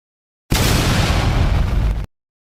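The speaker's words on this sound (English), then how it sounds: "I don't know what that old explosion was for" A single explosion sound effect plays on a live stream, a loud, sudden roaring blast that holds for about a second and a half and then cuts off sharply, with silence before and after.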